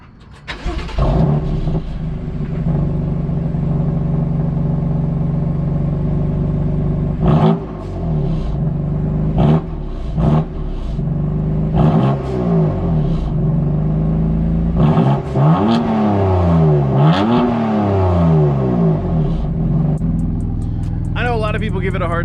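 A stock-exhaust BMW F82 M4 with a six-speed manual revs repeatedly up close, its loud raspy engine note rising and falling in several sharp bursts over a steady idle rumble, with talk heard in the background.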